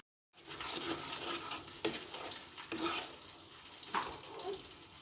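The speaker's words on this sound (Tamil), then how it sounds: "இது வந்து நல்லா தகன்னு கொதிச்சிட்ருக்கு" Sugar syrup for rava laddu bubbling at a rolling boil in a pan, a steady close hiss with occasional louder pops and bursts, no voices.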